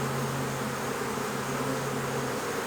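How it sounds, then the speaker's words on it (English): A dense, steady drone of many honeybees buzzing close around an open nuc hive in August as a frame is shaken, continuous and loud with no talking. "shake those bees."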